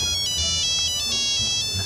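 A phone rings with an incoming call, its bright electronic ringtone pulsing loud and close in quick repeated bursts over a low background hum.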